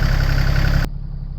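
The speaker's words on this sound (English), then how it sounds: "the little tractor's been out here warming up for a while" A small tractor engine idles while warming up outdoors in near-freezing weather, giving a steady close mechanical drone. Partway through, the sound drops abruptly to a duller, quieter hum.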